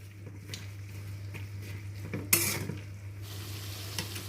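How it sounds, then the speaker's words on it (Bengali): Stirring and frying onion and capsicum in a pan for chili chicken: faint sizzle with scattered spatula scrapes and clinks, one sharper scrape midway, over a steady low hum. "পেঁয়াজ আর ক্যাপসিকামটাকে এখন ভালো করে মিশিয়ে নিয়ে ভেজে নেব।"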